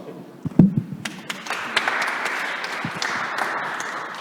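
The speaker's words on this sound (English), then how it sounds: "please give Professor Skibniewski virtual applause" Applause for a professor after a conference talk on automation and robotics, a crowd clapping steadily that builds into a dense, sustained patter, fairly close and without speech over it.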